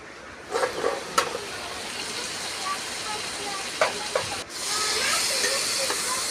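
A pointed gourd and potato curry fries in a pan, with a soft, steady hiss and sizzle, a few clinks and stirring scrapes, and a rise in the hiss when the lid comes off.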